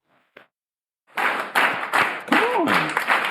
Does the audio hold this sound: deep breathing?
no